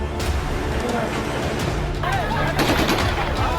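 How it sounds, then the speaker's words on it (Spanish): Gunshots fired into the air during a popular protest in Dagestan, Russia, heard as sharp cracks over loud, continuous crowd noise and shouting, with several reports clustered in the second half. "Con disparos en el aire"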